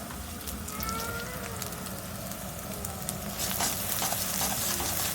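Onions frying in hot oil with chili powder just added, a steady close sizzle and crackle that runs throughout with occasional stirring scrapes and no talking.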